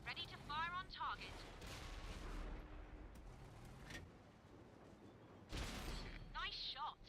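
Artillery in a console tank game fires in sharp booming shots, one early and another near the end with a rumbling tail, heard under steady engine drone and game noise.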